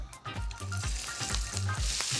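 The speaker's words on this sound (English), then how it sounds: "Anything less than that sizzle" Hot olive oil sizzles loudly and continuously in a pan nearby, with crackling spatters and a few low knocks of utensils against the pan.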